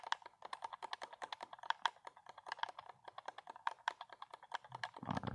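Rapid mouse clicking during a CubeCraft match, a dense run of sharp, close clicks in a fast, slightly uneven rhythm that continues for several seconds with no talking.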